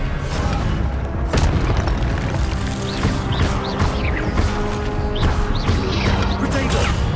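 Spell effects booming in Hogwarts Legacy on PS5, with loud repeated blasts and crashes over game music, and voices shouting over the action.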